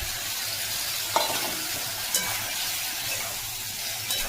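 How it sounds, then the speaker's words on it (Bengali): Vegetables sizzle and fry in a pan with salt, ginger, cumin, coriander and green chili, a steady close hiss broken by a few sharp scraping stirs. "আমি একটু কষিয়ে নিচ্ছি লবণ দিয়ে, কিছুই মশলা না, আদা কুড়ানি, জিরে ধনে আর কাঁচা লঙ্কা।"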